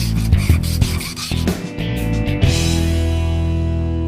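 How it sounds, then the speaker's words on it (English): Metal part hand-polished with lubricated crocus cloth, a close, continuous rubbing rasp with rhythmic strokes over a few seconds, no voices. "get some lubricant in there with that crocus cloth and then be polishing away for hours"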